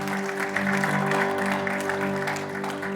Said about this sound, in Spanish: Denle un aplauso fuerte al Señor porque Él es bueno.